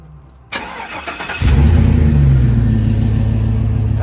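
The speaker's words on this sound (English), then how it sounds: "I'm going to start up my other vehicle." A BMW 7 Series 750 (E65/E66) engine cranks briefly and catches, settling into a loud, steady idle rumble close by after a short click and whir, with no talking.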